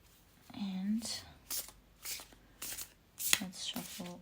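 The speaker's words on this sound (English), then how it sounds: "let's shuffle this deck." Cards are riffled and shuffled in several quick bursts, crisp and close, with a soft voice speaking between them.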